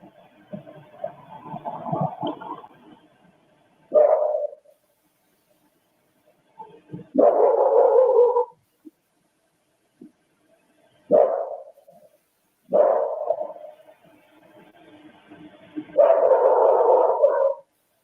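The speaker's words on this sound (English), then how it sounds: "It's like the one dog's barking" A dog gives several separate low barks and woofs in short bursts with pauses between, fairly loud and close, at night around 3 to 4 am, and no talking.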